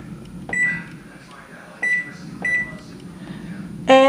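Several short electronic beeps from a microwave's keypad, spaced apart over a low background hum, ending with a longer tone as the oven starts.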